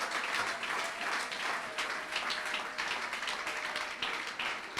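Sustained applause and clapping from a church congregation during a Sunday worship service, a dense, even wash of many hands held steadily throughout with no pauses.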